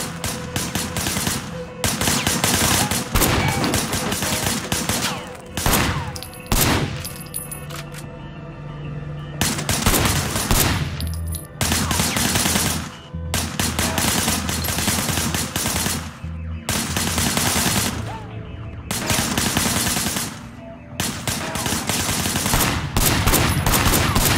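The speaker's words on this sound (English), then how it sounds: "I want you to put some bullets in a few things." Sustained gunfire in the video game Sleeping Dogs during a police shooting drill from behind a barricade: loud, rapid bursts of automatic fire with brief gaps between volleys, continuing for a long stretch.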